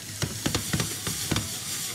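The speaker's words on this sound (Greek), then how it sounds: "Τα μανιτάρια τα αφήνω μέχρι να στεγνώσουν τελείως." Mushrooms fry in a hot pan with a constant sizzle, broken by six or seven quick scraping knocks as they are stirred in an uneven rhythm.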